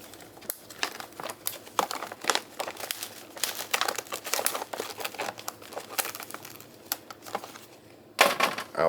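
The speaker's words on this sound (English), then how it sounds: "for now we're going to Ziploc that shut" A plastic Ziploc bag is crinkled and handled in a steady stream of close, crackly rustles, ending with a louder burst of crinkling as it is pressed shut.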